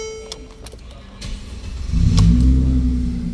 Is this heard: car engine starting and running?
yes